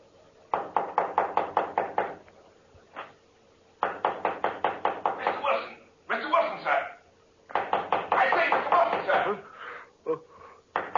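Several bursts of firm knocking on a door, quick repeated raps separated by pauses, with voices calling out between the knocks.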